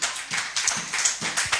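A church congregation applauding, a brief patter of many hands clapping at moderate volume with no voices over it.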